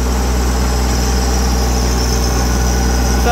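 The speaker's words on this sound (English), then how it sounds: "if a little tractor like that can move stuff like that" A small tractor engine, fitted with heavy-duty 4000 lb pallet forks and moving a heavy dirt-filled load, holds a loud, steady, low idling drone close by with no pauses.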